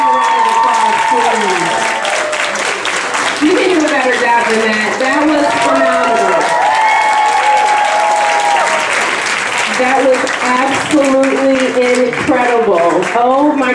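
Sustained applause from a crowd at a school end-of-year program fills the whole stretch, dense and steady, with cheering voices and music-like tones mixed in.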